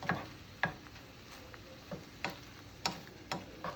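Ground meat browning in a dry pan with no oil, giving faint, irregular crackles and soft ticking pops spaced across a quiet background, with no talking.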